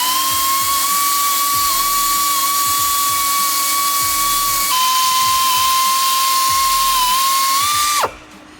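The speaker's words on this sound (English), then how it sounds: "we're going to switch it over to the drill to drill out that hole where the nail went in" A high-pitched power drill drilling out a nail hole in a tire whines steadily and close up for several seconds, then cuts off abruptly.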